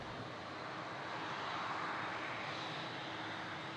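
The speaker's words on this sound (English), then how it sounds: "Here's an actual 787-9 as well." A Boeing 787-9 airliner at Toronto Pearson airport gives off a steady, broad engine roar at moderate distance, continuous and even with no voices.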